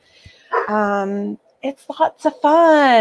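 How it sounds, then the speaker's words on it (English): A puppy gives drawn-out, howl-like barks, one early and one at the end, while a person speaks briefly between them. "That's my puppy. He's saying hi, if you can hear him barking."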